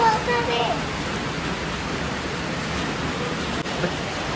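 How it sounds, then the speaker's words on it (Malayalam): Heavy rain pouring down outdoors in Thiruvananthapuram, a dense, steady hiss of close rainfall that holds at an even level throughout, with no clear voices. "നല്ല മഴയാണ്"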